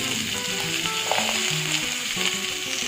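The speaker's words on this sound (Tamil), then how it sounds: "ஸோ இது எல்லாத்தையுமே நம்ம ஒன்றா மிக்ஸ் பண்ணி ஃப்ரை பண்ணிக்கலாம்" Onion, tomato, ginger, coconut and carrot for chutney fry in a pan with a constant close sizzle and occasional stirring, while soft background music plays underneath.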